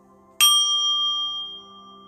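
A bell rings out once more in a Reiki healing session: one crisp strike, then a sustained shimmering tone that slowly decays in a quiet room.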